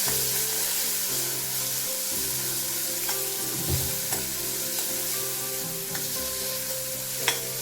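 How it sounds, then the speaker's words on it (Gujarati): A spice mix for sabudana khichdi sizzles loudly in a pan while a spoon stirs and scrapes through it, with a few sharp clinks against the metal. "સરસ રીતે આપણે હલાવી લેશું"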